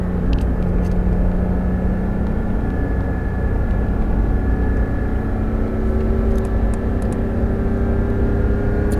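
A Porsche 911 GT3 RS engine pulls hard out of a corner on the Nogaro race circuit, a loud, steady in-car drone with rising tonal whine as it accelerates, continuous throughout.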